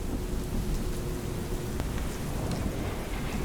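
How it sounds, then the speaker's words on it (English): Steady, dense rain hisses continuously over a low rumbling thunderstorm, with a faint distant crack of thunder partway through and no voices. "accompanied by rain and thunder"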